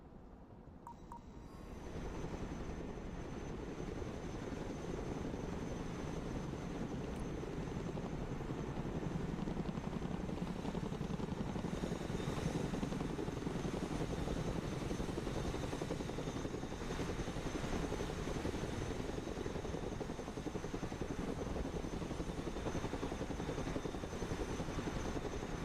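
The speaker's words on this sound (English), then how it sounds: "Let's go and recover it with our helicopter." A Chinook cargo helicopter in the video game Broken Arrow drones steadily with a loud, continuous rotor roar. It swells in within the first couple of seconds and holds at an even level throughout, with no talk.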